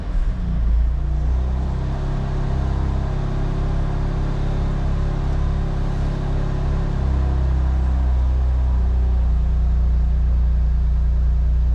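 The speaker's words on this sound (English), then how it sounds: "get the car started" A BMW M2 Competition idles steadily after starting, with a close, loud low rumble throughout and no talking.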